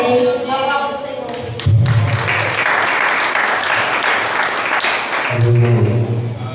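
A church congregation applauds during a Portuguese-language family worship service, a loud, steady wash of clapping filling the clip, with low thumps and a voice speaking over it near the start and end.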